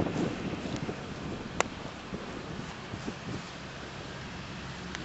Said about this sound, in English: It is a little bit windy, which does make fire starting harder.